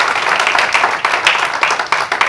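A church congregation applauds during a sermon, a sustained wash of many hands clapping at a steady level with no speech over it.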